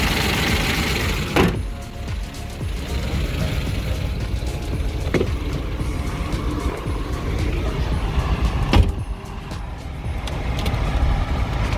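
A Range Rover rolls along on its first test drive after repair, a steady engine and road rumble filling the cabin with a few sharp knocks and clicks along the way.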